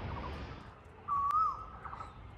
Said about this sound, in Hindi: कोयल का साउंड